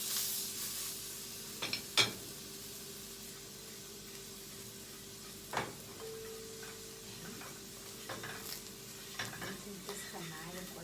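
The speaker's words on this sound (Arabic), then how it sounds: "واحنا بنحمر التريبيانكو بتاعنا" Tribianco meat fries in a pan with a steady low sizzle throughout, broken by occasional sharp clicks and scrapes of stirring, fairly quiet with no talking.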